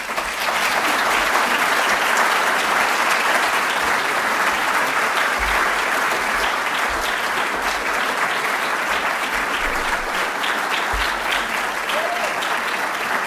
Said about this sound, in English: I would hope that you would give a rousing round of applause for Duncan Sandys.